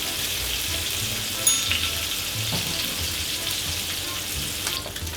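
Salmon fillet laid skin side down in a smoking-hot pan, giving a steady, loud close sizzle and crackle that continues throughout with no talking.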